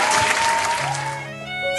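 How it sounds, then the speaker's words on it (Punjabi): Loud crowd applause from a live Punjabi music performance, dense clapping filling the clip at close range, with faint instrumental tones and a voice heard under the clapping. "ਤਾੜੀ ਇੱਕ ਵਾਰੀ ਜ਼ੋਰਦਾਰ"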